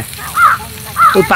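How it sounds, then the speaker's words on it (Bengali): A crow caws twice in clear, loud bursts with a short pause between them, heard outdoors near a kitchen where fish is being fried. "ওই যে পাখি ডাকছে।"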